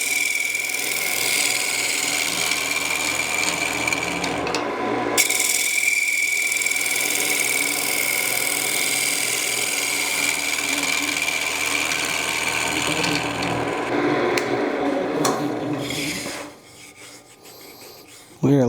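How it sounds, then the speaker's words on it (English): A round tool cuts into a spinning box elder burl on a wood lathe, giving a continuous loud scraping rasp with a shifting pitch that runs for about sixteen seconds, then drops away as the lathe winds down. "now for the actual turning, I'll come in with my round tool and start shaping this."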